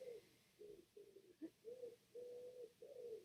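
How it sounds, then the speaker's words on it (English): Dove cooing heard nearby in a steady series of soft, low, drawn-out coos with short gaps between them, the calls arriving alone with no voices or other sounds competing. "Can you hear my dove?"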